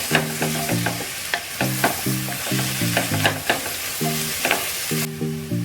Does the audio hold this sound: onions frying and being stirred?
yes